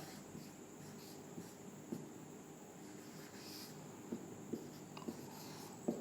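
Pen writing a translation by hand on paper, faint steady scratching strokes with a few sharper taps in quiet room tone.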